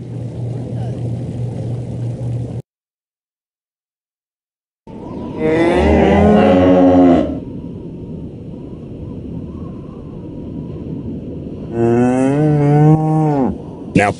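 Cows in the video game Postal 2 give long, loud drawn-out moos, two separate calls with a steady engine-like hum and background noise between them and no voices over them.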